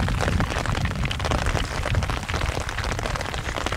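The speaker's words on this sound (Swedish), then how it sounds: "så kom det ett regnväder över sjön här." Steady rain falls over a lake in the Torrön area, a dense, continuous hiss of drops striking the water and nearby surfaces, loud and even throughout with no voices.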